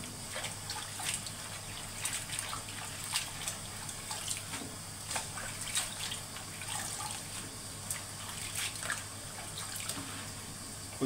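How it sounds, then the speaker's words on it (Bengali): Malabar spinach leaves being washed under running water, a steady tap stream with splashing and trickling as the leaves are rinsed, close and continuous with no talking. "এদিকে পুঁই শাকগুলো ধুয়ে নিতেছে ভালো মতো।"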